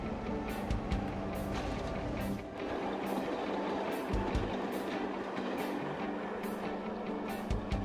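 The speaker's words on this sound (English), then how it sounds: "The train then sets off and picks up the required speed" A crash-test rake of rail vehicles, released from its main vehicle, coasts along the rails toward a stationary vessel with a steady loud rolling rumble and evenly spaced wheel clicks at regular intervals.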